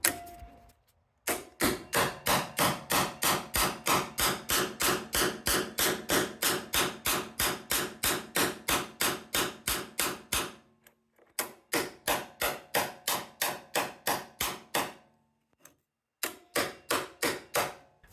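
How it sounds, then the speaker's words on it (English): A manual impact driver is struck repeatedly with a hammer to loosen a stuck screw: loud, sharp metallic blows in a fast steady rhythm, several bursts separated by short pauses, close and without talk. "start hammering on the top"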